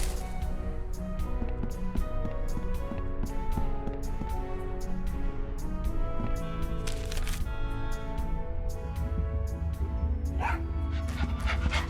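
A dog in the Tales of Monkey Island video game barks, yips and whimpers steadily over a continuous bed of game music, loud and close throughout.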